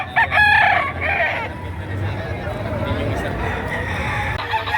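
A rooster crows loudly and close by at a livestock auction where chickens are sold. The crow opens the clip, then clucking and a babble of voices in the background continue.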